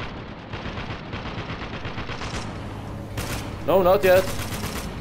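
Gunfire from the war shooter Spec Ops: The Line, in rapid bursts that swell near the end of the clip, mixed with someone talking over the action.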